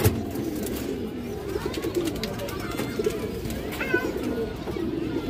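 A large green-necked male pigeon among a loft of fancy breeds coos in low throaty rolls close by, with other pigeons murmuring and occasional sharp clicks and flutters throughout.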